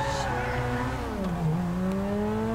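Fast sports car with exhaust flames in Grand Theft Auto, its engine note rising and dipping as it accelerates and shifts, heard moderately loud with faint voices underneath.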